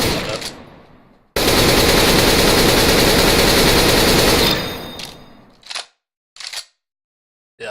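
Full-auto AK rifle spray in CS:GO: one long continuous burst of rapid gunfire lasting about three seconds, loud and close, followed by a few short separate bursts.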